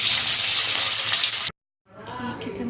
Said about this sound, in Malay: Macam biasa kita goreng ayam dulu,